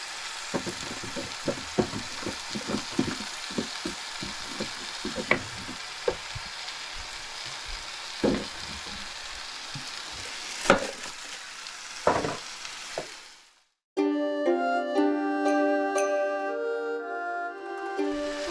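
Bean sprouts and stir-fry mix crackle and sizzle in a hot pan for low-carb chicken chow mein, with scattered stirring clatters over a steady fry, then cutting abruptly to a bright tonal passage near the end.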